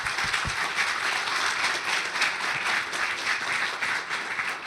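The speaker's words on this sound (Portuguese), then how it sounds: "Uma salva de palmas." An indoor audience at a municipal public meeting claps together in a dense, steady burst of applause, loud and unbroken throughout, with no talk over it.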